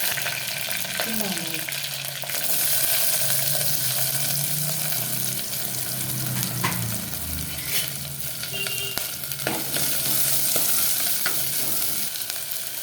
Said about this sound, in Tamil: நல்லெண்ணெய் ஊற்றிருக்கேன் கடுகு போட்டுக்கோங்க கடுகு பொரிஞ்சதும் வெந்தயம் போட்டுக்கோங்க